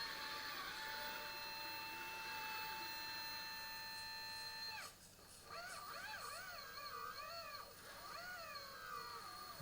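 The hydraulic pump on a radio-controlled wheel loader, running at about 18 bar, whines steadily while lifting a heavy weight. The tone briefly dips, then wavers up and down in pitch as the load strains the pump.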